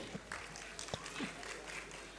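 A crowd applauds a cricket team owner's representative at a sponsors and team owners introduction event, fairly faint and distant clapping running steadily with a few sharper claps and scattered noise.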